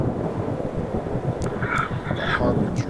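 A thunderstorm in the game Static Dread, a continuous low rumbling roar of wind and thunder with faint higher crackles, with someone talking over it.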